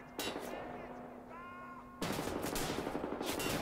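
Gunfire in Wolfenstein: The New Order, a quieter humming stretch then a sudden burst of heavy, continuous automatic fire and explosive blasts that stay loud to the end.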